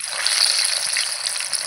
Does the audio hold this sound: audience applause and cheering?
no